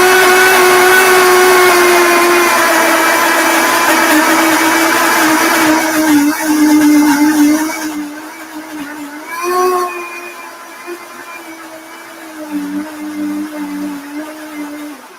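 A blender runs loud and steady on fresh raspberry pudding with a high motor whine, then the pitch drops and the sound softens into uneven bursts as the mixture thickens, no talk.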